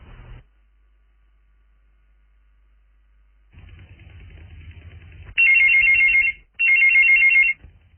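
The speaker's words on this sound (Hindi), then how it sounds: "तो देखो फोन की घंटियां बजना शुरू हो गई हैं।" A telephone rings for a radio call-in farming advice show, two loud electronic ring bursts following a quiet line hum and faint background rumble.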